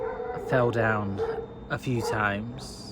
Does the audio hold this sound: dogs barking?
yes